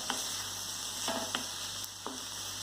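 Papaya and cooked cowpeas are mixed for a thoran in a pan over steady, quiet frying hiss, with a few soft scrapes and taps from the spoon, heard alone.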